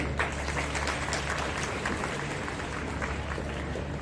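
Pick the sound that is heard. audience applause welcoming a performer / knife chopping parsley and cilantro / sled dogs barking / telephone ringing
audience applause welcoming a performer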